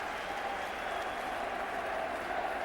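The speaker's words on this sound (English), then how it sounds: "The crowd applauding now the two fighters" A packed crowd at the King's Hall applauds after a British 126lb boxing title fight, a dense, steady wash of clapping and cheering held at even loudness throughout.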